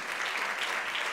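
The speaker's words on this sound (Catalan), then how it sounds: "un aplaudiment." Audience applause at the IX Clara Campoamor award ceremony in Almassora, a dense, steady wash of clapping from a crowd with no pauses.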